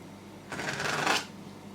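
A knife cutting a half slice of banana bread cheesecake, a single soft scraping stroke lasting under a second, close and fairly quiet.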